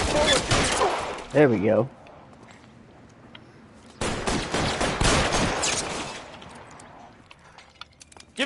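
Gunfire in the video game L.A. Noire, dense bursts of shots in two loud volleys separated by a quieter lull, with someone talking briefly over the action.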